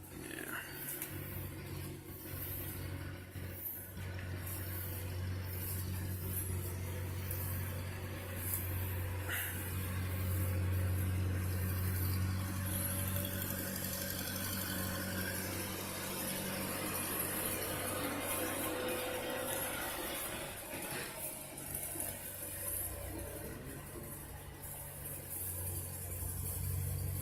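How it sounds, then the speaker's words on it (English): A brush hog mower runs nearby on a goat farm, giving a steady, moderately loud low engine drone with a broadband rumble that continues through the whole stretch. "Sorry for the noise, the guys got the brush hog out."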